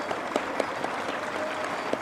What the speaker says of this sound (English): Can we applaud all those volunteers